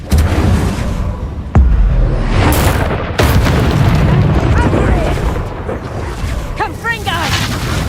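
A fire spell cast in the video game Hogwarts Legacy bursts with a sudden booming whoosh amid dense game effects, music and other magical impacts, with a voice speaking over it.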